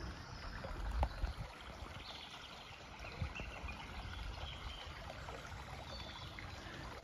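The River Uck flows and trickles steadily, a soft continuous wash with faint splashes, heard outdoors with no voices.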